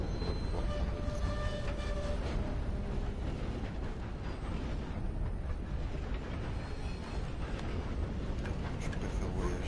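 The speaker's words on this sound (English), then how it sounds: "On va pouvoir prendre le train." Steady, loud rumble and rattle of a train in the Red Dead Redemption 2 video game, continuous rolling noise filling the whole stretch with faint metallic squeals on top.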